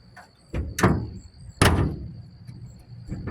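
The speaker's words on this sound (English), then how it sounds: "See if the hood closes." A car hood being shut after a TPI air induction setup has been fitted, heard as two sharp metallic slams with lighter clunks around them, close and clear against a faint steady whine.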